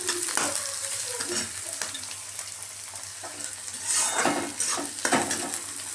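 Broccoli, carrot and other vegetables sauté in hot oil for fried rice, making a steady close sizzle. Scrapes and clinks of a utensil against the pan recur throughout, and no voices are heard.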